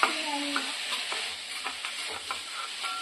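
Broccoli, potato and onion sizzle steadily in a hot pan while a utensil scrapes and stirs through them in irregular strokes, close and continuous, with no voices.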